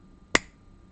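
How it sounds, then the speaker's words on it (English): A single sharp finger snap rings out in a quiet room near a sound sensor, crisp and close, with a faint steady hum behind it. "So when I snap my fingers"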